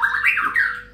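A white-rumped shama gives a loud, close call of bright rising and falling whistled notes, two or three phrases running together over about a second with no other sound.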